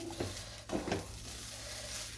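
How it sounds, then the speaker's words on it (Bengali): Rice fries in a pan for basanti pulao, a quiet steady sizzle with a couple of scraping stirs near the start, close and alone. "একটু ভেজে নিচ্ছি চালটা"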